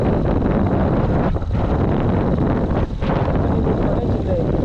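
Steady, loud wind roar buffets the microphone while riding a motorbike on an old road in Karnataka, continuous throughout with brief dips in the rush.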